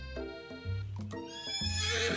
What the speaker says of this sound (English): Colonel Sanders' horse is truly a thing of beauty.